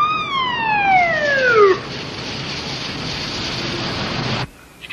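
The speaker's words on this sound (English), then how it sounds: "Bravo 101, sound your siren." A police car siren wails in a loud descending sweep, then gives way to a steady broad hiss that cuts off abruptly near the end, with no voices.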